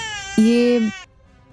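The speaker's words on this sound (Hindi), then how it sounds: "नाक्षी को किसी बच्चे के रोने की आवाज आने लगी" Sudden infant cry in a horror animation, a single sustained wail of about half a second, loud and close, starting abruptly and then cutting off into near silence.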